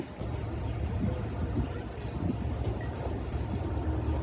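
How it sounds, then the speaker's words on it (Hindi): The Ravi Express, led by a ZCU20 locomotive, rumbles past at Badamibagh station as a continuous, heavy roll of wagons with a brief higher clank partway through. "ये है रावी एक्सप्रेस 122, इसका नंबर है रावी एक्सप्रेस"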